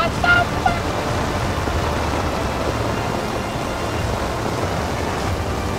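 Heavy rain pours down during a solo motorcycle tour in the Western Alps, a dense, continuous hiss of water, loud and close, with no voices over it.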